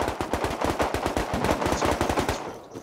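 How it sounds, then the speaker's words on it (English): Rapid, loud automatic gunfire fires in a steady fast burst of evenly spaced shots in a video game and stops abruptly near the end. "they're shooting in this direction"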